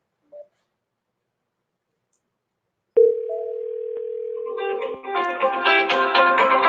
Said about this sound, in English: let me put my phone on so you can actually hear it ringing